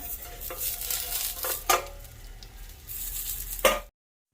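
Stuffed green chillies filled with fresh coconut fry steadily in a covered pan, then a lid is lifted off with a couple of sharp metallic clanks over the continuous soft sizzle.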